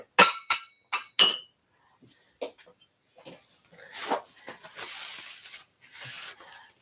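A carnival glass piece handled indoors, several sharp bright clinks in quick succession, then softer rustling and faint scraping handling noises.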